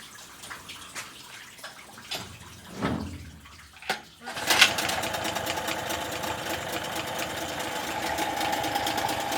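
A Tohatsu outboard boat motor, run in a water tank on a test setup, catches after a few quiet knocks and then runs steadily, with a broad continuous mechanical drone and water-like wash close by.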